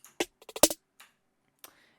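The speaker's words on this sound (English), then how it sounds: "Then we have this other snare which complements that snare." Snare hits in a programmed beat: a quick cluster of sharp, bright cracks, then a lone hit and a final soft stroke after a gap, heard alone.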